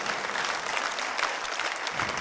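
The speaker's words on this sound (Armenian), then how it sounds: "ծափարություն է, ծափարություն է" Studio audience applause from a television talent show, a dense, steady clapping that carries evenly through the whole stretch with no speech over it.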